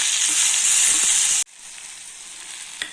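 Tomatoes sauté with onion and curry leaves in a pan: a loud, close sizzle that cuts off abruptly halfway, leaving a faint low simmer with one small clink.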